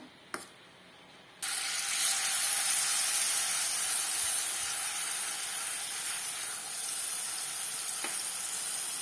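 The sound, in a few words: mashed banana frying in hot ghee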